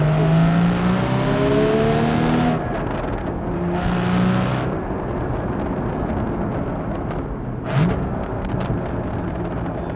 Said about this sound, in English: The auto blip and the rev matching that you get just sounds so amazing.